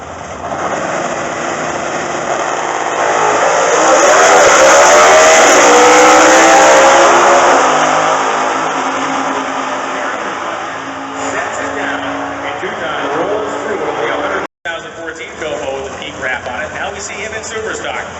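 A 1969 Camaro Superstock drag race car with an automatic transmission at sportsman qualifying: the engine swells to a loud roar, then recedes to a lower rumble. An announcer talks over it.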